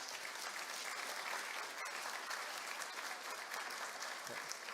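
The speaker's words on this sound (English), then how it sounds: "Please join me in a round of applause." Sustained, dense applause from a ceremony audience at a university doctoral hooding, steady and even throughout with no break and no one speaking.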